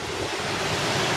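Sea waves wash onto a beach as the tide comes in, a steady loud roar of surf with wind buffeting the microphone throughout.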